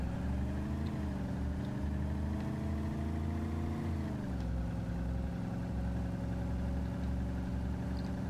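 A car driving along in DayZ Origins, the ArmA 2 mod, with a steady engine drone holding a low rumbling tone that dips in pitch partway through, continuous and alone.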